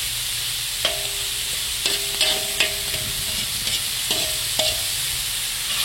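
Four pieces of shrimp fry in a hot pan, giving a steady close sizzling hiss broken by a few light clinks and scrapes of a utensil against the pan.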